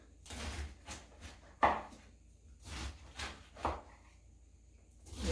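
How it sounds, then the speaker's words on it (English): A knife cutting a cabbage into half-inch slices while cooking corned beef, giving several crunchy chopping strokes on a board at an uneven pace, fairly close and moderately loud with no talk. "And then I'm just going to cut some slices."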